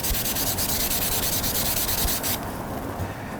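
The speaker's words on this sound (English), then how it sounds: "You can take a piece of sandcloth, this little 3M pad, and we'll just make sure that this thing's nice and clean." A small 3M abrasive pad scrubs a copper pipe clean, making continuous close, rapid rasping strokes that run steadily throughout, with no talking.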